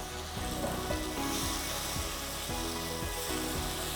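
Tomato gravy for malai kofta curry sizzles steadily in an uncovered pan, a loud, close, continuous frying hiss with faint, regular stirring scrapes beneath it.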